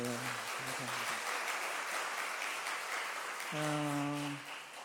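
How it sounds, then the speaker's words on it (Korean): A church congregation claps together in a steady wash of applause, with a voice speaking in Korean over it at the start and again near the end. "우리 하나님께 영광의 박수를 한번 돌립시다."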